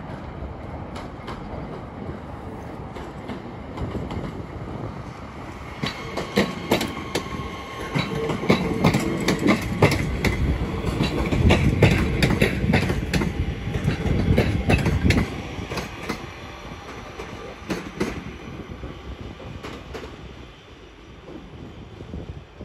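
A Northern class 323 electric train departs Crewe bound for Manchester Piccadilly, wheels clicking over rail joints and a steady rumble building as it rounds the curve, then fading away; no talking.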